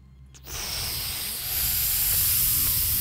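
Steam hisses from a valve in the stealth video game Thief 2, starting abruptly after a brief quiet moment, then a steady broadband hiss that swells louder partway through and keeps going.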